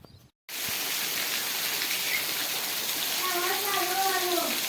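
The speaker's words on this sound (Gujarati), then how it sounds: "તો અત્યારે તો વરસાદ ચાલુ થઈ ગયો છે ફૂલ." Heavy rain pours steadily over farmland with cotton crops, a dense continuous hiss that starts abruptly and stays loud, with a few faint bird-like chirps toward the end.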